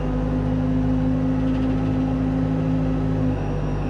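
A telehandler forklift hums loudly and steadily as its boom retracts, a low engine drone carrying a sustained hydraulic whine that cuts off shortly before the end.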